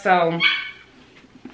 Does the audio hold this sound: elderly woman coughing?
no